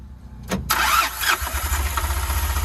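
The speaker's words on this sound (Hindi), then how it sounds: "एक बार बंद करके दोबारा स्टार्ट करेंगे गाड़ी को" Tata Intra V10 truck engine started with the ignition: a brief cranking burst catches into a loud, close, steady idle with a mid-pitched rumble.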